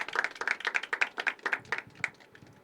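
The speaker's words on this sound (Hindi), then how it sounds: "give it up for Parikshit guys" Audience clapping at a Hindi poetry open mic at The Habitat: a short burst of brisk, close handclaps from a small crowd, a quick uneven patter that thins out after about two seconds.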